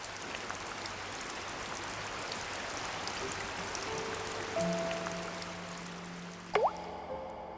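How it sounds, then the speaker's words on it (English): Rain falls on a mountain river in amago spawning season, a steady wash of drops and flowing water with a few thin tonal calls and a brief louder splash near the end. "The rain beats down on the river."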